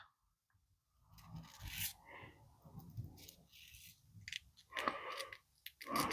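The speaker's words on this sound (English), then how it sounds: "I'm just going to sand one way here" Repeated gritty rubbing strokes of a clear vacuum-formed plastic model canopy sanded on a sanding stick, close up, in short one-directional passes with brief pauses between them.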